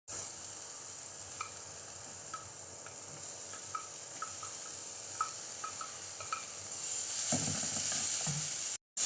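Chopped onions and finely cut capsicum frying in a pan, a steady broad sizzle with occasional crackles and pops, growing louder and busier toward the end as the vegetables are stirred, with no talking.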